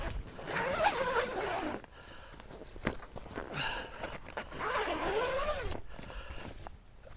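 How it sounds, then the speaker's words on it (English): A zipper is drawn along a canvas protective cover over a tent outdoors, giving several close, scratchy zipping strokes separated by brief pauses and light handling noises. "So I just unzip it like so."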